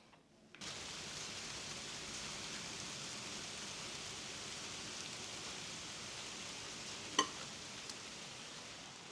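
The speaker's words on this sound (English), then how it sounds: "So yeah, it started raining." Steady rain pours down outdoors as a dense, even hiss that starts abruptly and continues unbroken, with one brief sharp tap partway through.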